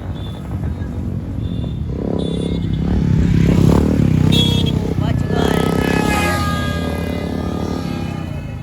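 A motorbike performing stunts on an open road revs and roars close by, its engine swelling and fading over scraping clatter while people talk over it.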